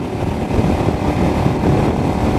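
A small motorcycle, roughly 250 to 500 cc with a small rear tire, rumbles close by in a loud, steady engine drone heard from the rider's position, without any talking.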